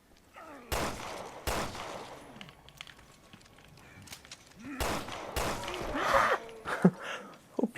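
Gunfire in the video game Resident Evil Revelations 2 comes as a few scattered shots and short bursts, moderately loud amid in-game sounds, with some faint vocal noises.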